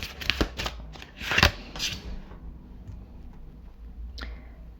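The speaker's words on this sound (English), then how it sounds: "Let's clarify some of these cards" Tarot cards shuffled and drawn by hand: a few quick riffling, flicking bursts early on, a louder shuffle near the middle, then quieter handling and one last brief flick, close up with no talk.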